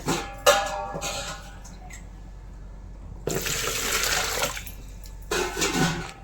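Water runs and splashes in two bursts, likely measured and poured into a pot for cooking pepper pongal, a larger pour lasting about a second and a half and a shorter one after a pause, close and moderately loud.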